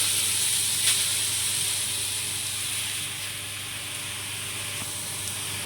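Carrots for carrot halwa hit melted ghee in a wok, giving a steady close sizzle and hiss that eases slightly as it goes on, with no talk over it.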